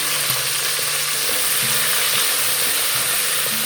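Garlic ginger paste hits frying onions and whole spices in a pan, a loud, steady sizzle with occasional stirring scrapes and no speech.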